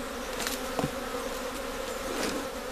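A honeybee swarm hums steadily during capture, a dense continuous buzz with individual bees droning close past the ear now and then.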